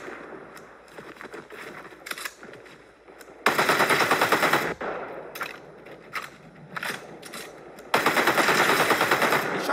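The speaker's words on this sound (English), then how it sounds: "Oh, I'm getting shot at." Gunfire in the Fortnite video game comes in rapid automatic bursts, with two long, loud volleys and scattered shorter shots between them. The shots are close and no one is talking over them.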